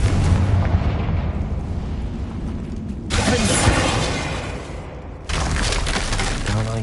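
A Confringo blasting spell going off in Wizard Simulator, heard as a loud, sustained roaring burst with crackling debris that starts abruptly, fades, and then a second sharp blast cuts in.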